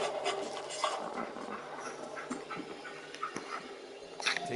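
Dogmeat the dog in Fallout 4 panting close by, quick soft breathy puffs with scattered rustling and faint whimpers, fairly quiet and with no talking.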